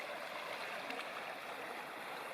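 Laurel Fork Creek flowing at a trail crossing in Big South Fork, a steady, faint broadband rush of moving water with no pauses.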